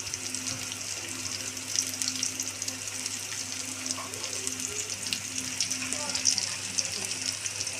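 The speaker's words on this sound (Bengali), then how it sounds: "পেঁয়াজটা লাল লাল করে ভেজে দিবেন।" Onions frying in a pan to a reddish brown, with a soft, continuous sizzle and occasional light stirring sounds, quiet and steady throughout.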